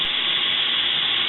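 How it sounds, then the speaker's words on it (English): Steak pieces browning in a hot frying pan for a stewed steak dish, giving a steady, loud broadband sizzle that holds evenly from start to finish with no talk over it. "We have our first meat down in the pan here."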